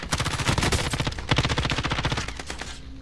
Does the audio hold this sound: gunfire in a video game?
yes